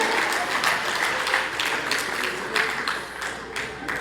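Audience applause at a political party diaspora convention in America, brisk scattered clapping that stays fairly loud throughout with a few sharper claps standing out.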